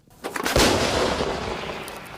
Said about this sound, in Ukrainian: Ще один постріл.